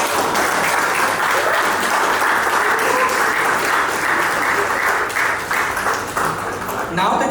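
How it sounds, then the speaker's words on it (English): A large audience at a literary festival awards ceremony in Hyderabad applauds a departing guest, with steady, dense clapping filling the room for several seconds and easing slightly near the end. "so please give him a huge round of applause as he leaves."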